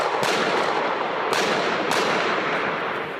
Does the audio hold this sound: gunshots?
yes